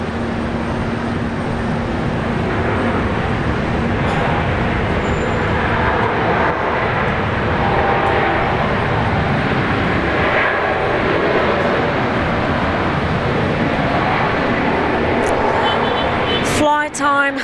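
A Qantas airliner takes off at Brisbane Airport, its jet engines producing a loud, continuous broadband roar that holds steady for many seconds, close and unbroken, with a brief clatter at the very end.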